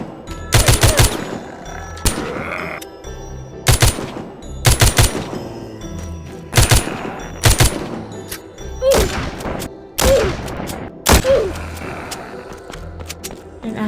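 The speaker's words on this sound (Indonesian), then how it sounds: "Lalu aku ke bagian belakang toko dan mendapati banyak sekali zombie. Dengan itu aku menembaknya." Rapid bursts of gunfire in The Walking Zombie 2 as zombies are shot, loud clustered volleys repeating every second or two with short gaps between, game sounds underneath and no talk.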